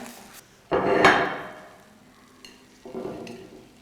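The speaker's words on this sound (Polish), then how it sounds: "Ono jeszcze tak fajnie bulgota, widzicie?" Mexican-style crepes bubbling and sizzling in a hot baking dish, a soft crackling simmer that swells into a louder burst of bubbling, then eases to a low fizz with a few lighter pops near the end.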